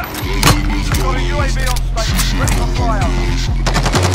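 Rapid automatic fire from an MP5 submachine gun in Modern Warfare, loud and close, with evenly spaced bursts rattling almost continuously through the clip.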